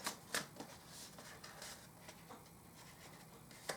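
Tarot cards are shuffled by hand in quick riffling bursts, a few brief papery flutters and soft snaps, close and quiet with no voices.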